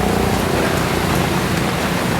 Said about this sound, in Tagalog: Update tayo sa ulan na ito.